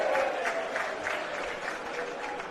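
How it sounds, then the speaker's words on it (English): A stadium crowd roars and cheers at a NSW Cup rugby league match between the Sydney Roosters and Newtown. The broad, sustained wash of noise sounds fairly distant and soft, with no single voice standing out. "big cheer"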